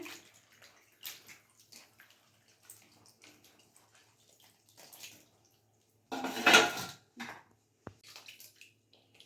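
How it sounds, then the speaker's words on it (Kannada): Water sloshes and splashes as cauliflower florets are lifted out of soaking water, with faint dripping and soft clinks around a louder splashing burst midway. "ಈಗ ಎಲ್ಲ ಹೂಕೋಸುಗಳನ್ನ ನೀರಿಂದ ತೆಗಿತಿದ್ದೀನಿ ನೋಡಿ."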